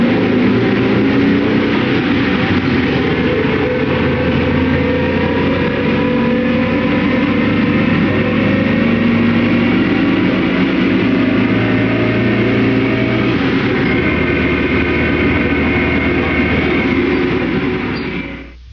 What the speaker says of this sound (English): This is the sound of a worn ring and pinion gear